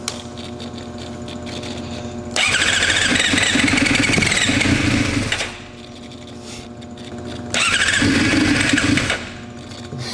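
A barn-find Suzuki GSX-R750 motorcycle engine cranks and catches, firing up loud and close in two bursts of rough running, each dropping back to a lower idle-like drone between attempts.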